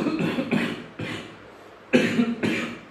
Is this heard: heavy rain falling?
no